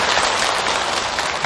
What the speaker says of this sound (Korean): 이 스님한테 박수 쳐줘